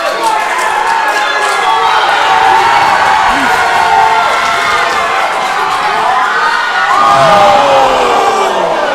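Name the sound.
wrestling crowd cheering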